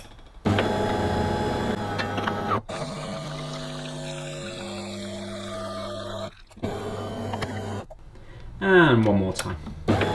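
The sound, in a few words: Delonghi Magnifica coffee machine running a rinse cycle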